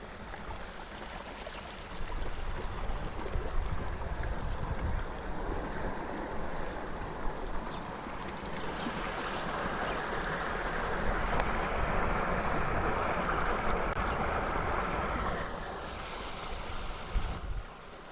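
Water gushes steadily and loudly from the pipe of an electric motor pump drawing from a well about 20 to 30 feet deep, a continuous rushing roar with no talk.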